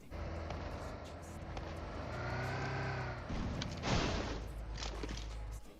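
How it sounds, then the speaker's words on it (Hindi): Vehicle in the game PUBG Mobile driving over a hill, an engine drone that swells and shifts pitch as it approaches, with a louder surge near the middle before settling. "अब मुझे दिखती है पहाड़ के ऊपर से गाड़ी आते हुए"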